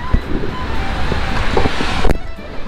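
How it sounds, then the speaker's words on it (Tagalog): Steady wind buffets the microphone outdoors in rain in Belgium with a broad rushing noise, with faint patters and a brief thump near the end; no voices are heard. "umuulan, tapos mahangin pa po mga kapuso, kaya mas lalong malamig"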